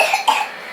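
A short pair of small coughs, quick and close, fading into quiet.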